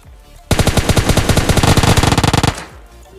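Gunfire from a battle royale video game as an enemy is finished off: a loud, rapid automatic burst of closely spaced shots lasting about two seconds, with no talk over it.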